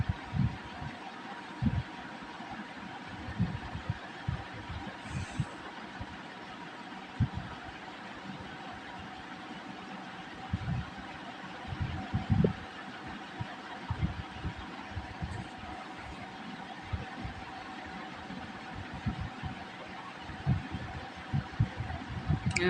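A sewing machine stitches two pant pockets together on ladies' pants, giving a quiet, steady run of soft rapid thumps that stops and restarts in short bursts over a low hum, with no talking.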